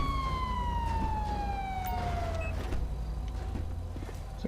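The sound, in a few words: police car siren in GTA V LSPDFR video game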